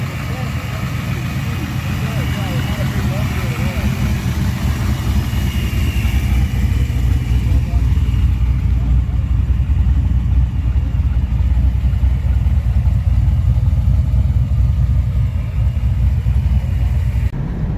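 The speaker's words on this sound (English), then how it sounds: "first time getting driven around in a Firehawk" A Pontiac Firehawk runs on the road, with a steady mid-pitched engine drone and road roar, close and loud from inside the cabin, with speech over it.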